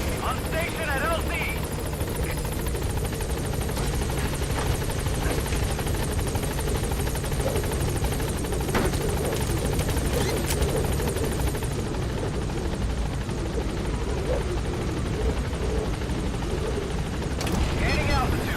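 The Pequod helicopter from Metal Gear Solid V: The Phantom Pain arrives at a landing zone, its rotor drone loud and steady throughout while a voice talks over it.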